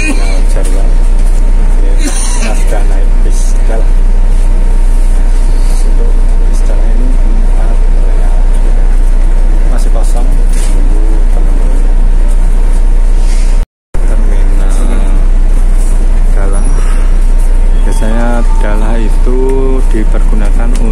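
Inside a bus at Jarwal terminal, a loud constant low engine rumble and cabin hum, with people talking over it throughout and a brief dropout partway through.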